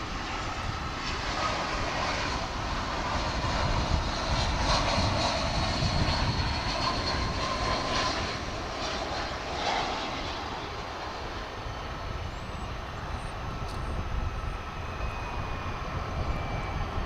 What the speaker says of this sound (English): an inbound flight from Wichita is just about to pass in front of us